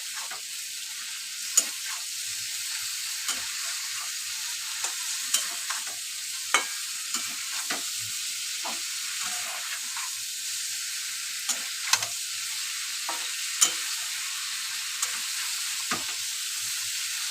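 Fried cauliflower, potato and prawns are stirred in a sizzling pan, a steady frying hiss broken by frequent scraping clicks of the spatula, close and continuous with no talk.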